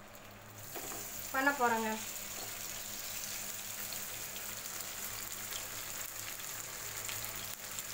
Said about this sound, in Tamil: லைட்டாக எண்ணெய் சூடாகையும் ஒவ்வொரு பீஸாக இப்படி போட்டு வேக வச்சு மாற்றி எடுத்து